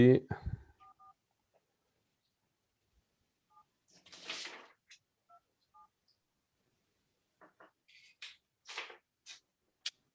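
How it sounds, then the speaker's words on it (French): Telephone number dialed by keypad: short DTMF tone pairs at intervals, then rustling handling noises and faint clicks, with a brief burst of talk at the start; the tones sound quiet and close. "on est en train de vous appeler, Florence"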